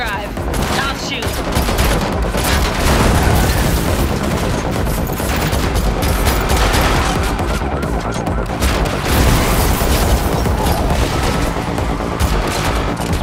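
Continuous loud gunfire crackles and booms during a car chase in The Matrix Awakens demo, dense bursts layered over roaring engines and crashes, with a few brief voices in between.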